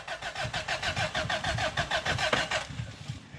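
A car engine cranks in a rapid, even starter rhythm for about two and a half seconds, close and loud, then stops without catching.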